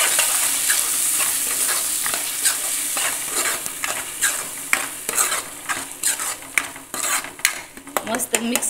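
Fried tomato and salt masala stirred in a pan, with a continuous sizzle and a run of sharp spoon scrapes and clinks against the metal that grow louder and quicker toward the end.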